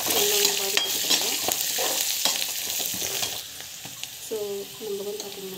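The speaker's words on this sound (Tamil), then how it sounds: "மஞ்சள் தூள் வந்து ஆட் பண்ணி நல்லா வந்து வதக்கிட்டுருக்கோம்." Mustard seeds, chana dal, green chilli and turmeric sauté in a pan with steady loud sizzling, punctuated by the scrape and clink of a spoon stirring them several times.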